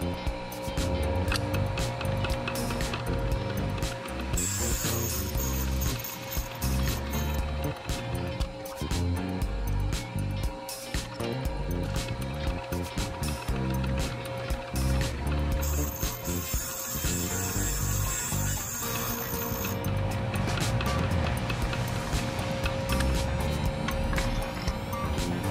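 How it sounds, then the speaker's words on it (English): An intake valve being ground on a Sioux 680 valve grinder, with a continuous, steady mechanical whir and grinding hum that runs unbroken and fairly loud throughout, plus brief high-pitched whines now and then. "so it's going to require a little more grinding"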